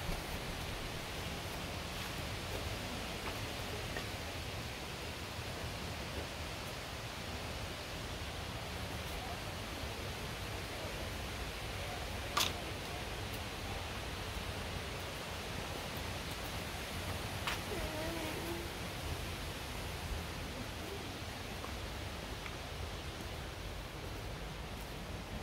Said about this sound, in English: right behind it is a beautiful river or stream